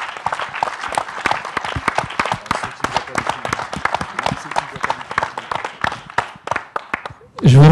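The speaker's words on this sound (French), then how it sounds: "Une bonne main d'applaudissements pour tous ceux qui vont passer les prochains jours avec nous." An audience at a film festival opening ceremony bursts into sustained applause, dense rapid clapping from many hands that carries on for several seconds before a voice cuts in at the end.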